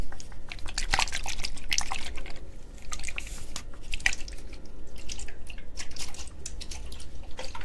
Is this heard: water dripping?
yes